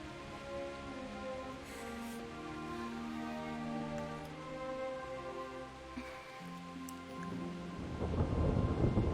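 A thunderstorm with rain in the video game Kingdom Come: Deliverance: steady rain and low rolling thunder under a soft music score, with the rain swelling louder near the end.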